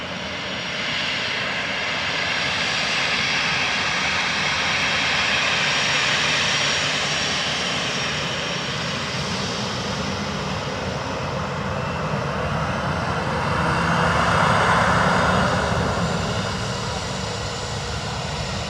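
An Aer Lingus A321XLR jet airliner inbound from JFK approaches Dublin Airport, its engines a loud, sustained roar that swells toward the end.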